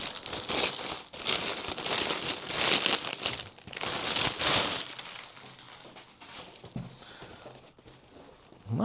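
Plastic packaging bags are crinkled and pulled open to unwrap a pair of Koning Nobilis Hema gloves, with loud, close rustling bursts for about five seconds before the crackling fades to quieter, sparser handling.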